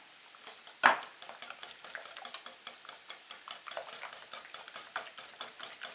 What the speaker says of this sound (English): And now this is 15 ounces of ricotta cheese that we're just going to whisk in here